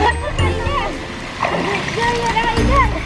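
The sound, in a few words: water splashing as a baby swims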